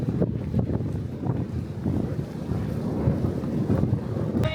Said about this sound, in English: Like I said, it's very windy up here.